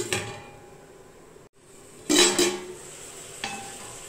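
A lid set onto a cooking pot of sautéing tomatoes gives a short metallic clatter with a couple of ringing clinks, followed by a lighter clink a moment later, over faint kitchen background.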